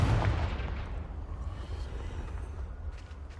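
A Confringo blasting spell in Hogwarts Legacy is cast with a heavy explosive boom up front, and a rumbling blast decays through the following seconds.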